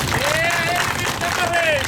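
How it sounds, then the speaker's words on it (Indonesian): Audience clapping for the police at a mayor's meeting with pedicab drivers, a dense, continuous patter of many hands heard alongside overlapping voices and a tonal whine in the room. "Kita tepuk tangan dulu untuk Polres."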